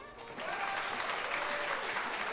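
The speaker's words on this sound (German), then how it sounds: "Applaus für uns!" Audience applause at a Minecraft speedrun tournament, a dense steady clapping from a sizeable crowd that starts quickly and keeps a constant level without pause.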